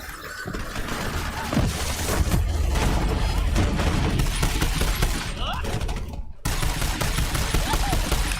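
Borderlands 3 video game gunfire sounds as continuous loud automatic bursts and booming shots, with a brief sharp cutout near the end before the firing resumes, while voices talk faintly underneath.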